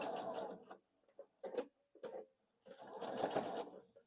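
A sewing machine stitches a quilt block in short bursts: a sustained run of rapid stitching, two brief stabs and a pause, then another longer stretch of fast, close stitching.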